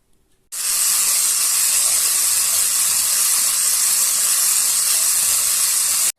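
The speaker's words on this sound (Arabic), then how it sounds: "بعد ما ضفتهم بالمضرب الكهربائي راح اخفقهم في البداية على سرعة متوسطة" An electric mixer whips cream at medium speed, a loud, steady whirring hiss that starts abruptly and holds constant before cutting off, with no talking.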